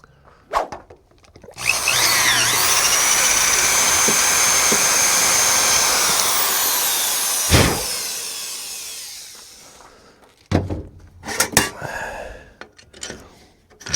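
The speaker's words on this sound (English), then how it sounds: "Let me get a drill." A power drill runs steadily for about six seconds at close range while working on axle shims for a 1973 Jeep CJ-5, with a sharp knock midway and scattered clanks and handling noises after it stops.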